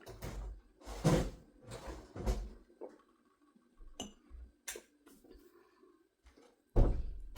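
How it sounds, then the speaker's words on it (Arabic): A door being shut inside a home: a few soft knocks and thumps, then a heavier bang at the end, between quiet stretches and a little indistinct talk. "اقفلي الباب الأول."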